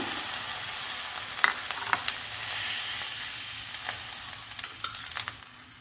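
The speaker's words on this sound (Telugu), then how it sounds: "ఇదే కళాయిలో పచ్చిమిర్చి, టమాటా వేయించుకుందాము." Green chillies and tomato frying in a kadai after the ajwain leaves came out, giving a steady close sizzle with a few stirring scrapes and clinks.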